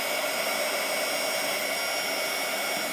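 A handheld hair dryer blows a steady, loud, unbroken rush of air over sticky burlap flower petals, with no voices and no change in pitch or strength throughout.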